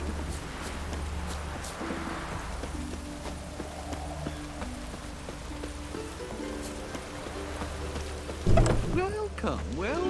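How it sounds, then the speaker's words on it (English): Steady rain falls across a medieval town in The Witcher 3, a constant soft hiss with a low rumble beneath, while horse hooves clop and a gameplay sound swells briefly near the end. "Looked like it would rain, and here it is."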